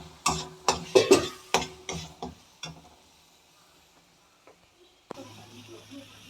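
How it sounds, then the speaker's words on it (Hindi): Cauliflower curry masala stirred in a pan, several sharp scraping and clinking strokes in quick succession, then quieter scrapes and a faint sizzle that continues after a brief pause. "इसको नॉन स्टॉप हमें चलाते रहना है जब तक कि ये देखिए ये सतह अपना छोड़ ले"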